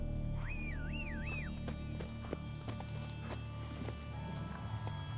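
Geralt's horse Roach moves at a gallop in The Witcher 3, with steady hoof clatter under game music and ambience and a brief whinny-like call early on.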